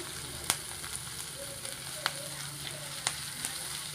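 Masala roasting in a spoonful of oil in a pan for a snake gourd gravy: a steady soft sizzle with a few sharp clicks and pops of a spoon scattered through, no voices.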